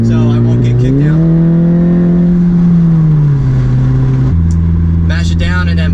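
A car with a JB4 tuner accelerates hard at full throttle, its loud engine drone rising steadily in pitch through third gear, then dropping abruptly at a shift. Someone talks over the engine.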